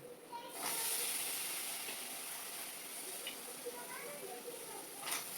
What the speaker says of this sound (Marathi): त्याच्यात छान धुतलेली फ्लावर आता मी ऍड करून घेते